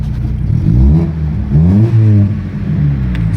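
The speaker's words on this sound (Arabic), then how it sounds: "عربيه ايه، سامعين صوتها دي؟ العربيه الجوليت." A Daewoo Juliet car engine runs close by, revving up and down in a few short rising and falling bursts, loud and alone.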